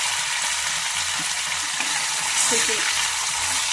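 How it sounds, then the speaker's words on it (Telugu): Small anchovy fish (nethallu) frying in very hot oil, a dense continuous sizzle and crackle close by with occasional stirring, no voices. "ఇప్పుడు నెత్తళ్ళన్నీ వేసుకుని వేయించుకుందామండి"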